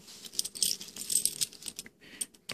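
A bunch of work keys for fire alarm boxes, alarm boxes and an office rattling up close, soft, irregular metallic jingles in short clusters with brief pauses between.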